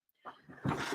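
Puppies whimper quietly. A faint yip is followed by a few soft whines that swell into a slightly louder, brief whimpering burst near the end.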